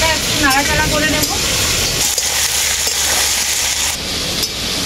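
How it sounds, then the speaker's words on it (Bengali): Potato and tomato sizzle in oil in a pan while being lightly stirred for a vegetarian cauliflower and soya chunk dish, a steady close crackle with soft scraping, and a voice speaks briefly over it early on. "হালকা একটু নাড়াচাড়া করে নেব।"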